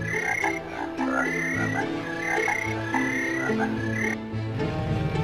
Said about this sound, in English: I just wanna see the frog again.